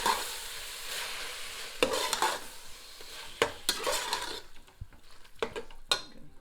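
Tomatoes being stirred and fried in a pan for chicken cannelloni: steady sizzling under repeated scraping and clinking of a utensil against the pan, close and fairly quiet.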